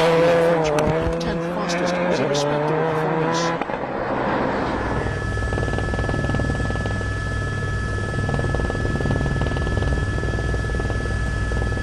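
Rally car on a Swedish WRC stage in 2002 roaring close by with rising and falling engine revs through shifts, then fading into a steady distant engine drone and ambient noise.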